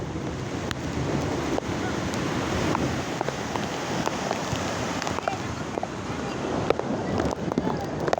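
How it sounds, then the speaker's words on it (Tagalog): Surf roars continuously on a beach, with large crashing waves and strong wind buffeting the microphone, loud and close. "Laki ng alon."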